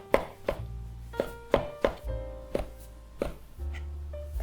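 Knife chopping peeled, slippery tomatoes on a cutting board in a kitchen, about a dozen crisp, close thunks at an uneven pace, each one sharp and distinct, with no talking.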